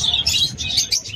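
Caged pet birds at a Malabon pet market, including lutino opaline parrots, give sharp bright chirps and short calls in quick irregular bursts, close by with no talk over them.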